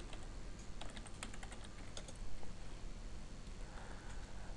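Rapid clicks of typing on a computer keyboard as a web address is entered, a close, steady run of keystrokes with short pauses and no talk.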